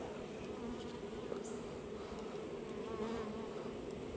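Honey bees drone in a dense, steady buzz around an open hive during honey removal, a constant close hum with no talking.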